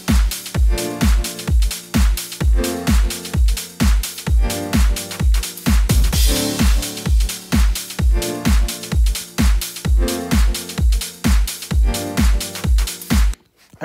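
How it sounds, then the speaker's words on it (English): An EDM track built in GarageBand plays with drums added, a punchy four-on-the-floor kick thumping steadily under layered synth chords, with a brief noisy swell midway before stopping abruptly. "And now with the drums, it sounds like this."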